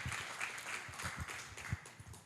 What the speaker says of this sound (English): Michael, come on up and give him a round of applause as Michael Batenburg comes to talk with us